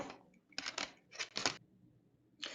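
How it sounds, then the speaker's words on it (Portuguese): A computer mouse scroll wheel is turned in several quick bursts, each a dense run of tiny ratcheting clicks close to the microphone, separated by short pauses. "segura a tecla Ctrl no teclado e gira a bolinha do meio do mouse. Gira aqui o scroll do mouse."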